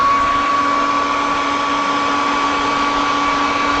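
A hair dryer blows steadily and loudly on freshly painted cobblestone sections of a Shishigami model, a constant airy roar with a whining tone running the whole time, with no talking.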